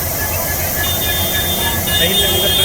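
Diesel locomotive engine idling at Beed railway station, a loud steady rumble with a thin high whine running through it, while a voice talks over part of the sound.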